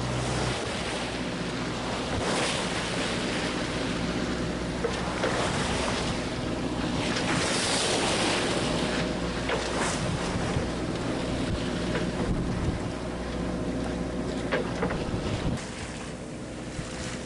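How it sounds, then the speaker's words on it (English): A sailboat motors slowly into short, choppy wind waves, with constant wind rush buffeting the microphone, a low engine drone underneath and waves slapping and washing against the hull throughout. "Powering straight into this wind chop, like 2 knots."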